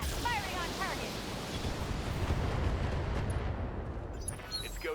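Mech weapons fire in the Battletech video game, a dense continuous barrage of booming blasts and rumbling explosions filling the whole clip, with whistling projectile tones early on.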